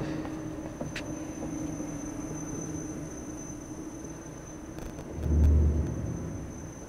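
Low rumbling of trains moving through the game INSIDE, a steady dull background drone with a louder heavy swell near the end.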